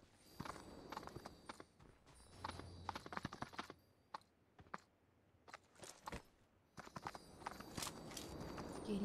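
Horse hooves clip-clop in a snowy-village video game, quick irregular clops in bursts with brief pauses, fairly close and crisp over a quiet background.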